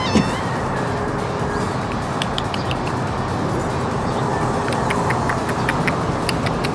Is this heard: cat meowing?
yes